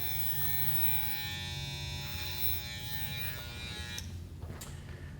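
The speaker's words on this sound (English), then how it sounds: "But here we cut this, as I said, with the clipper and the comb" An electric hair clipper buzzes steadily and close while trimming a beard with a comb as guide, a continuous whine that dips near the end with a couple of brief clicks, no talking.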